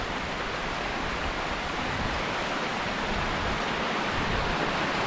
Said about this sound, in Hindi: देखिए बर्फ का पिघला हुआ पानी, पानी का शोर हो जा रहा है।